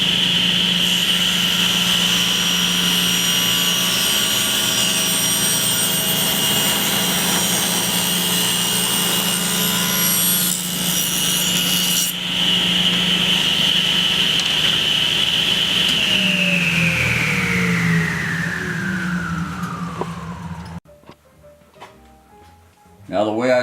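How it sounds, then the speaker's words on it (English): Power saw cutting just under an eighth of an inch off a piece of wood, a loud steady whine that holds for most of the clip, then winds down and stops. "Now I've set the saw so it's going to cut just under 1/8 inch off"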